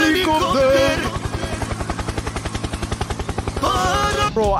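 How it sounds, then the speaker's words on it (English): Helicopter in the Gorilla Tag game, a loud, steady rapid rotor chop throbbing evenly in the foreground with a whining engine tone and no talking. "Yo, helicopter, helicopter."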